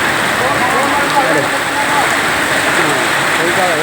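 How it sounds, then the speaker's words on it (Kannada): Heavy rain pours steadily outside a canteen, a dense continuous hiss close and loud throughout, with someone speaking briefly over it. "ನೋಡಿ ಮಳೆ ಚೆನ್ನಾಗಿ ಹೋಯ್ತಾರೆ"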